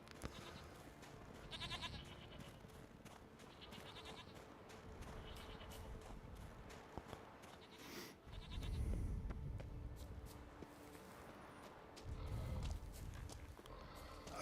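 Goats bleating in the video game The Witcher 3, several faint calls spread across the scene at irregular intervals with soft background ambience and occasional small clicks.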